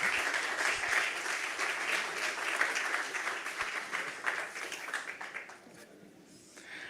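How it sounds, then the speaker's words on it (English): Conference attendees at a yachting technology event in Monaco applaud steadily at moderate volume for several seconds before the clapping tapers off and fades. "please give them a round of applause"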